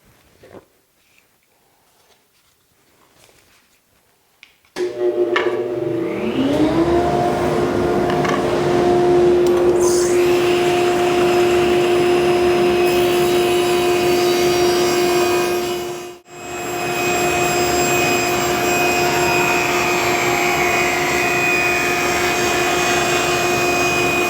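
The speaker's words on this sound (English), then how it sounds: "go ahead and trim them down to their final widths at the table saw" Table saw spins up after a few quiet seconds and trims wood pieces to width, a loud sustained whine with a brief dip midway before running on steadily, no talking.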